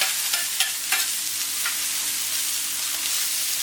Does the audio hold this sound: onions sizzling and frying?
yes